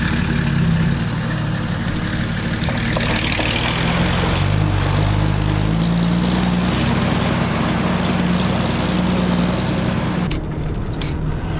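A vehicle with electrical trouble driving slowly along a track through water to avoid splashing its engine, a steady low engine drone with churning, sloshing noise throughout and a few sharper knocks near the end.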